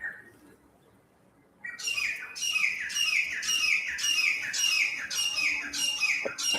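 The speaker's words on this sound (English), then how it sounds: "There is this beautiful bird which is making a lot of sound." A bird sings a repeated series of bright, rapid chirping phrases, close and clear, starting after a quiet moment and continuing steadily.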